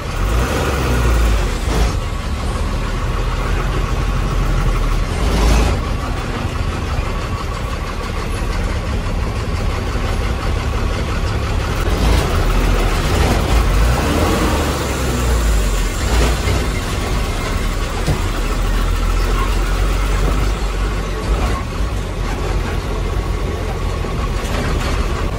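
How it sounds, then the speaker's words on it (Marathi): Two big trucks pass close by on a narrow village road in Maharashtra, heavy engines rumbling and droning steadily for about half a minute, with occasional louder surges and knocks, under a roughly constant noisy background. "आता समोरून दोन मोठे ट्रक आलेले आहेत."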